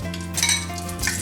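A Thai omelette sizzles in hot peanut oil in a wok, a loud continuous frying hiss with bright crackling bursts and faint metallic clinks, no voices.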